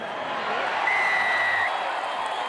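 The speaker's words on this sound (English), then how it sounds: "Your fans in the Western Stand about to cheer this home." Rugby league crowd in the Western Stand at the 2011 Queensland Cup Grand Final, a steady distant roar of cheering with a brief whistle, dense and continuous throughout.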